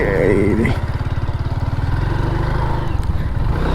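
A motorcycle engine idles and putters steadily nearby, its rhythmic low chugging filling the whole stretch after a brief louder start.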